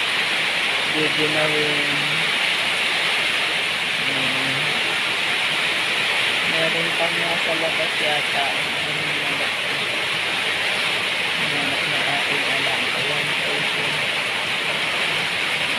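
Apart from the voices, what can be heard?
rain with wind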